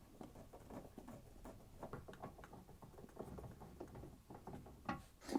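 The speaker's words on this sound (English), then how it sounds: "You can then unscrew the 2 screws at the bottom." Screws are backed out of a tumble dryer's bottom panel with a screwdriver, quiet rapid ratcheting clicks and scraping in a continuous patter, ending in a couple of louder knocks.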